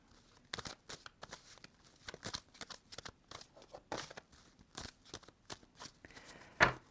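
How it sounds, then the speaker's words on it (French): Tarot cards are shuffled and drawn during a reading, producing a string of quick papery flicks and soft slaps, close but quiet, ending in a sharper snap, with no speech. "Allez, Cinder, une dernière carte"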